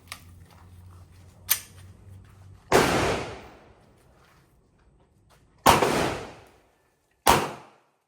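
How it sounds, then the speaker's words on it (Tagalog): A pistol fires several sharp, loud reports spaced a few seconds apart, each bang followed by a short decaying tail, with a fainter crack just before them. "nilagyan natin siya ng 2 bala para dun sa 2 putok"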